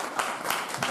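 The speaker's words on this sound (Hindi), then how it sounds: "इस बात के लिए अलग से ताली सर" Seminar audience clapping in a hall, a brief burst of scattered hand claps with a few distinct peaks, moderately loud and without speech.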